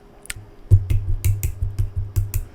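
A single person claps haphazardly: a handful of sharp, uneven, close claps at irregular intervals, loud and dry, with no voices over them.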